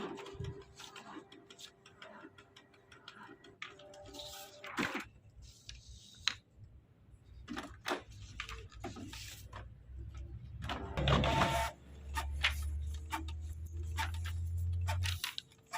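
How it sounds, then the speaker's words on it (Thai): A Canon MP287 inkjet printer copies a test page after a black-ink fault, with clicks, mechanical ticking and whirring carriage movements, then a steady low motor hum as the paper feeds, with occasional handling noises nearby. "คราวนี้ก็จะรอผลทดสอบพอพิมพ์ออกมานะครับ"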